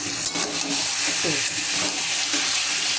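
Masala being sautéed in a pan, a loud, continuous close sizzle with occasional stirring scrapes mixed in.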